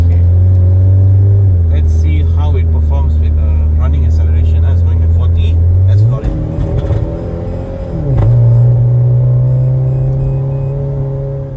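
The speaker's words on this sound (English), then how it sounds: "that was turbo spool. Turbo spool. And the exhaust also popping away." A 1997 Saab 900S Turbo's engine drones loud and close, with crackling exhaust pops early on, then a rev that sweeps down and back up to a higher steady pitch.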